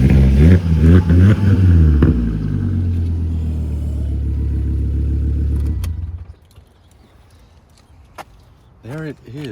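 A Volvo S60R engine idles and revs loudly nearby, with a few throttle blips before settling into a steady rumble that cuts off, leaving quiet with some light clatter; a voice talks over the start.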